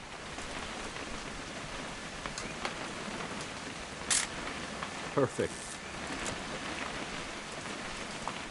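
Steady rain hisses throughout a video game scene, a dense even wash with a few short sharp clicks, while a voice speaks a single word.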